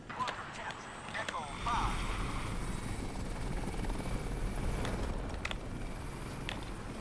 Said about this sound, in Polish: ja coś tam umiem trochę śmigłowcem latać